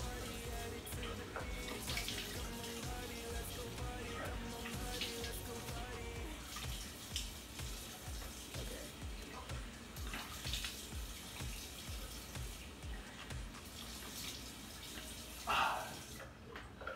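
A bathroom tap runs steadily with cold water while someone washes their face, a close, continuous gush with small splashes and drips on top.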